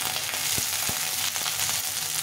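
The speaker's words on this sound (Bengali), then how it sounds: "এখানে পেঁয়াজটা কিছুটা ভাজা হয়ে গেছে" Onion frying in a pan for a Bengali home-cooked dish, a steady close hiss with scattered crackles and a few soft stirring knocks, with no voices.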